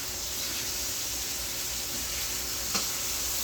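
Cajun chicken frying in a hot pan, a steady close sizzle throughout with one brief clack of the pieces being turned partway through.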